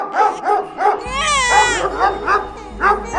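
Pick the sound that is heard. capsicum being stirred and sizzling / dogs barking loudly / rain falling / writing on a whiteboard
dogs barking loudly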